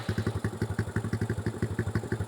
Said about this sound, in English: you could hear when you turn it on, the fuel pump first gives a few chugs to get all the fuel up to the carburetor